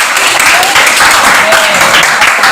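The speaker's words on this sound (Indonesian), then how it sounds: "Tepuk tangan dulu buat teman kalian di depan ya." Classroom applause for a classmate at the front, a dense burst of many hands clapping close by and continuing steadily, with voices mixed in.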